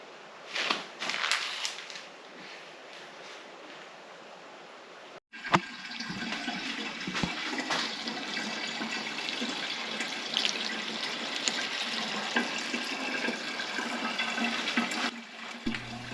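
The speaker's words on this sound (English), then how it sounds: "It was incredibly satisfying watching this wine siphon down into these 2 glass jars." Homemade wine without added yeast siphons through a tube into two glass jars, a steady trickling, gurgling flow of liquid heard close up, with a short break partway before the pour continues.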